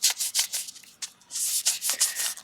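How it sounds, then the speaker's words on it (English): Thin abrasive burnishing pads rub inside a coin ring, giving short, close, scratchy strokes in quick uneven bursts with a brief lull partway through. "you have two very thin fine and burnishing abrasive pads that you can now get inside of the ring"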